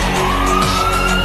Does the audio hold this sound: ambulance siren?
yes